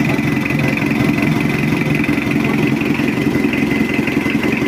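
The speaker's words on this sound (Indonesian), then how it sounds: "udah hidup untuk mesinnya, alhamdulillah nggak ada kendala, udah beres dan suaranya udah adem" A steady Mitsubishi L200 diesel engine idles close by after an engine rebuild, a low even rumble with a constant mechanical throb and no variation in pace.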